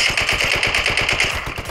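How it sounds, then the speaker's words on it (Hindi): Rapid automatic gunfire from a gun in the Indus battle royale game rattles out as a loud, fast, evenly spaced burst of shots that runs the whole time with no talking. "कौन सा गन है भाई ये, कौन सा गन है?"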